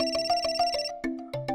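A phone ringtone plays a quick, bright electronic melody of evenly spaced tones, loud and close, with no voices over it.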